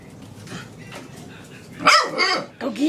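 A dog barks loudly at a broom in a few sharp, close bursts, following a stretch of quieter background noise.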